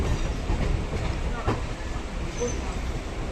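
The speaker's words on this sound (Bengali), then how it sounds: "ট্রেন আস্তে আস্তে ভাগ হচ্ছে," A local train on the BBD Bag to Kalyani route rolls slowly through a track junction, giving a steady rumble with clattering wheels over the points and faint voices under the noise.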